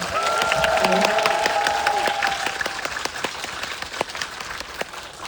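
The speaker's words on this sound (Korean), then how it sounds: "두 분께 박수 한번 부탁드릴게요" An audience at a Korean cinema guest visit before a film's release claps and applauds. The applause is dense at first, with a voice speaking briefly over it, then thins out and fades to scattered claps.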